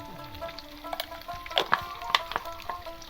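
Two eggs, salted and spread out, fry in a pan over high gas heat for chow mein, a soft steady sizzle with scattered crackles and spatter pops, close and fairly quiet.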